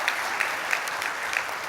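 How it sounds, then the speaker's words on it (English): Audience applause breaks out after a poem is read aloud at a TEDx salon event, a steady wash of clapping from a sizable crowd held at an even level, with a few sharper individual claps standing out. "I think we first need to clap for that."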